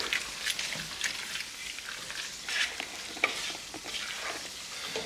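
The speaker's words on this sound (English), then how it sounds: "I'm gonna stir it up a little bit." A spoon stirs a pot of homemade chicken noodle soup with its noodles already cooked, giving soft scraping and sloshing strokes in an uneven rhythm, close and moderately loud with no talking.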